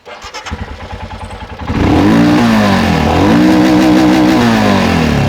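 An old Royal Enfield Himalayan 411 single-cylinder motorcycle starts with a few uneven chugs, then catches and idles loudly up close, its revs rising and falling in smooth swells.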